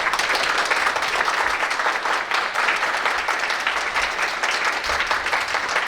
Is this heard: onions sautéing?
no